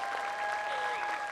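Studio audience applause on an Indonesian comedy talk show, a steady dense wash of clapping filling the short stretch without pause.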